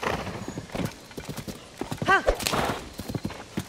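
Horse hooves clip-clop in a quick, steady rhythm close by, with a short whinny partway through, from the video game Zelda: Tears of the Kingdom.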